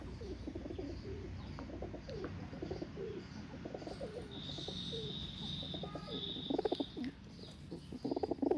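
Nafta Cheena pigeons coo softly in low, repeated murmurs against faint background noise, with occasional higher chirps and a brief flutter near the end.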